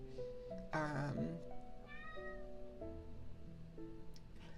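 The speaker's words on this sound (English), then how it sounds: "I'm sorry for the cat sounds." A house cat meows several times in a quiet room, the calls rising and falling in pitch, with a longer louder meow near the start and softer ones after.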